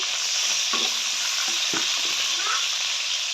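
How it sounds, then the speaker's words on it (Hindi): Five or six green chillies fry in about two spoonfuls of hot oil with a loud, continuous sizzle. A few stirring scrapes rise over it, and nobody speaks. "ऑयल हमारा गर्म हो गया, इसमें 5 से 6 हम डालेंगे हरी मिर्चें"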